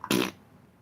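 A single short, loud fart sound effect, a buzzy blurt lasting about a fifth of a second, then quiet.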